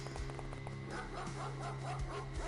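A dog barks a few times in the X-Com Files video game, short yips sounding over a steady low game hum and ambient background.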